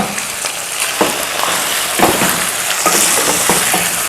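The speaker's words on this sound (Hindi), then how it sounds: "दस मिनट हो गए भूनते हुए चिकन को।" Chicken being bhuna-fried in a pan with spices and yogurt, a loud close sizzle with rhythmic stirring scrapes about once a second.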